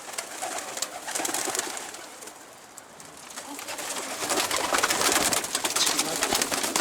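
Egyptian bango pigeons coo and call in a loft, with steady bird sounds and wing flutters that swell toward the end, no talk.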